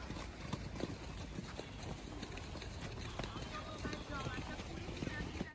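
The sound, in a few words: horse trotting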